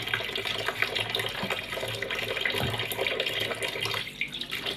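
Tap water running over food being washed with flour in a kitchen sink, a steady close splashing stream with small shifting gurgles, no voices.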